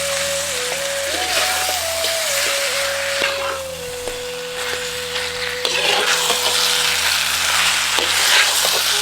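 Chicken pieces stirred through masala and yogurt for a Malabar chicken biryani, a steady close sizzle and frying hiss with soft scraping strokes and a faint pan clink running continuously throughout, with no talk.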